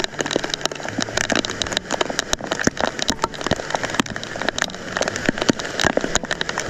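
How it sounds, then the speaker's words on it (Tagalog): Heavy rain pours onto a field of crops in the first April downpour, a dense, loud, steady hiss crackling with countless close drops from start to finish. "Lakas ng ulan."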